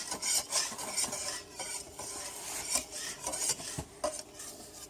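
A utensil stirs orange juice cake batter in a bowl, quick repeated scraping and clinking strokes in an uneven rhythm, close and fairly loud with no voices.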